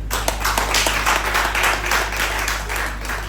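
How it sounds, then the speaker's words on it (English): An audience claps for a state governor at a training event, a short even burst of dense clapping that holds close and steady throughout. "let all of us clap for Mr."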